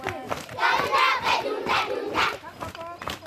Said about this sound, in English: This is the sound of Ugandan kids singing at a school